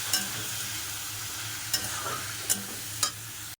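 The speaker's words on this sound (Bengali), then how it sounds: "ভাজা ভাজা করতে হবে চিকেনটা ভালো করে।" Chicken with spices fries in a pan, a steady close sizzle broken by several sharp scrapes of a spatula stirring it, with no talking.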